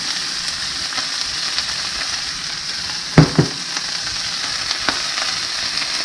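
Three cups of chopped celery fry in a pan for Thanksgiving dressing, giving a steady, close sizzle with a few sharp clicks of stirring near the middle.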